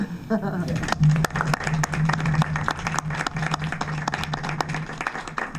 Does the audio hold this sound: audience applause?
yes